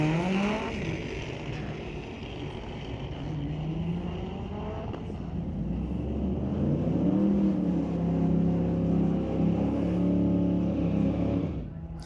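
A 1973 VW Beetle fitted with a K20 turbo engine launches at a street-legal drag night at Mission Raceway. The engine roars loud and close for about twelve seconds, its pitch climbing and shifting, then cuts off abruptly.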